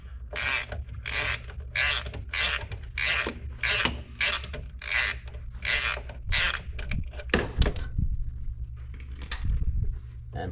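An 11mm socket on a ratchet loosens a brake line banjo bolt on a used car, giving a close, rapid run of repeated ratcheting clicks in bursts, then a few metallic clanks and softer handling noises.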